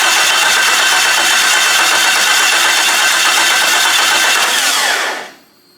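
A Jeep Cherokee engine with a bad engine history cranks and catches, running as a loud, steady roar for about five seconds before cutting off abruptly into near silence.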